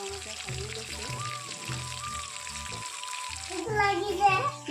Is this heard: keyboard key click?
no